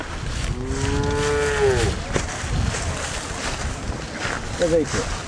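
Jersey and other dairy cows lowing on a cattle farm, one long drawn-out moo near the start and a shorter one later, over windy outdoor noise.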